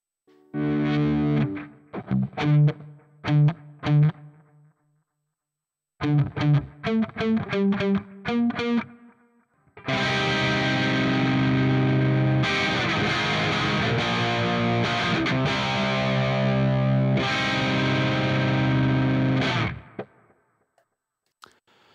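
Distorted electric guitar through an Ampero 2 Stomp with delay and reverb effects, playing short rhythmic chord stabs, then a long sustained wash of chords with lingering echoes and reverb tails, loud and close.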